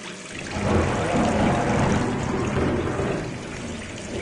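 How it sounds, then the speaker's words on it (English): Water runs steadily from a bathroom faucet in the game Gone Home, a loud continuous splashing rush that fills the whole moment without any talk. "turn the faucet off"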